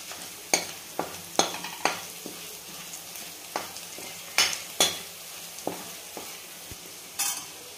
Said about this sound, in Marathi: हे सगळं आपण याच्यामध्ये टाकणार आहे आणि छान मिक्स करून घ्यायचं याला पण